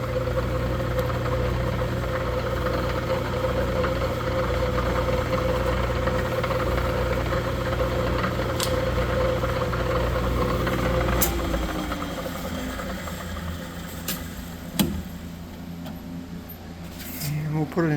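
A single-phase Bridgeport milling machine head with an R8 spindle and quill power feed, running in forward direct drive, hums and whirs steadily up close, its low drone dropping away partway through as the motor shifts.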